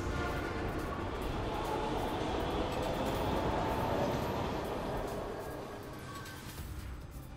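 A subway A train in the TMNT: Mutants in Manhattan video game rumbles along steadily and loudly, a continuous dense roar that fades slightly near the end.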